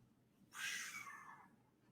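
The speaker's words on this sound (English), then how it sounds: "has you ever seen a flying cat?" A cat lets out a single drawn-out meow lasting about a second, close and fairly clear over a quiet room, then falls silent.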